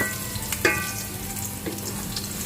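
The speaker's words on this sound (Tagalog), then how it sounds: "Lagay na natin first ang ginger." Ginger sautéing in a pan for a Filipino chicken feet dish, a short steady sizzle with a couple of light utensil taps, close by and unaccompanied by speech.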